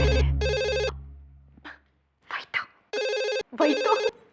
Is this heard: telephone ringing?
yes